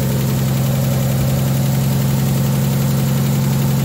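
A small engine idles steadily while it burns off the last fuel in its carburettor float bowl. The engine is close, loud and even, with a constant throbbing hum and no revving.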